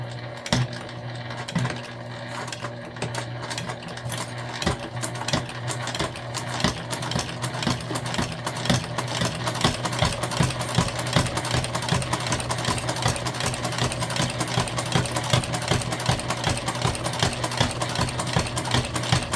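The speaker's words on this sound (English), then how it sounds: "We're going to stitch this together with the same seam allowance that we just used." A sewing machine runs continuously, stitching a lunch bag seam with a rapid, even mechanical rattle that grows slightly louder and steadier as it goes, with no talk.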